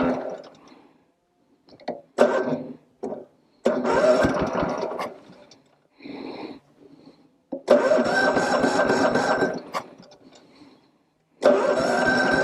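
A 1950 Cushman Turtleback scooter engine is cranked repeatedly without starting, giving several separate bursts of sputtering, chugging engine noise of varying length with quiet gaps between them.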